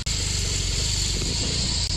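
A BMW R18 boxer motorcycle engine runs steadily nearby, a low throbbing hum that holds an even pitch for the whole stretch.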